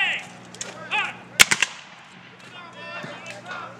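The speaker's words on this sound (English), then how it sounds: "It's a muzzle loading rifle. You shoot it, then you have to reload it." Muzzle-loading rifle fired at an outdoor Civil War reenactment: one sharp, loud crack with a short echoing tail, set among crowd murmur and scattered voices before and after.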